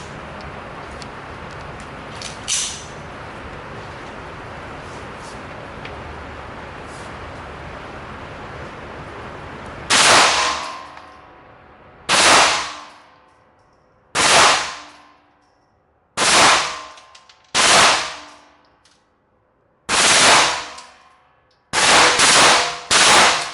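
A gun fitted with a 33-round magazine fires eight loud, sharp shots after a stretch of outdoor background noise, at uneven one-to-two-second intervals with the last two close together, each ringing out and decaying quickly.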